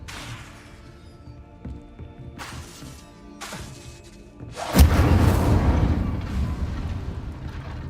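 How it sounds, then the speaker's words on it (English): Incendio fire spell cast in Hogwarts Legacy: faint whooshing swishes build up before a sudden loud boom and a sustained roaring, crackling burst of flame that slowly fades, with no talking. "Incendio! Setting things ablaze is certainly cathartic"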